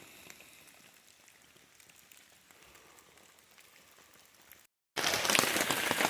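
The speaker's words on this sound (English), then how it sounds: "it's still raining out" Rain falls at a campsite, first as a soft, steady patter and then, after a brief gap, as a much louder and closer downpour.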